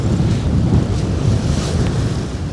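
Strong wind buffets the microphone on a stormy sea shore while fishing, a loud continuous rumbling roar with surf and waves washing beneath it, steady throughout.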